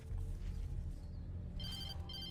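A telephone rings inside the Alan Wake video game, giving two short electronic bursts of ringing near the end over a steady low rumbling ambience.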